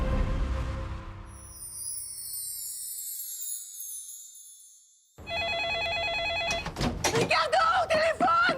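A telephone rings with bright repeated electronic tones after a low rumble fades to near silence, followed by a thud and a burst of busy studio sound at a year-end comedy special.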